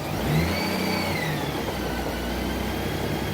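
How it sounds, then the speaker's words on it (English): A Honda Goldwing motorcycle engine runs loud and close during warm-up, its pitch swelling as it revs in gear and lugs, then settling back into a steady drone. "If I rev it up more when it's engaged,"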